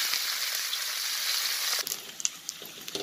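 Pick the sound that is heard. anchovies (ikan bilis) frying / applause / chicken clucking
anchovies (ikan bilis) frying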